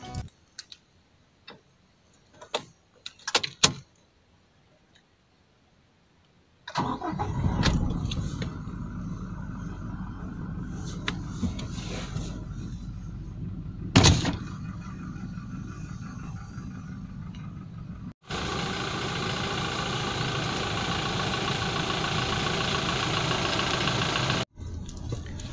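A 2022 Toyota Innova facelift G manual diesel is started after a few clicks, then settles into a close, steady diesel idle rumble that later turns to a louder, brighter hiss before cutting off.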